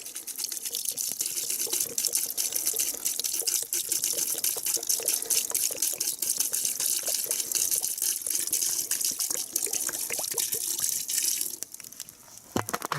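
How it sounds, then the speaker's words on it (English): Water pours over vegetables in a pot at a campfire, a continuous splashing gush with drips that runs for several seconds close by before easing off near the end. "Cover it with water, enough water to cover all the vegetables."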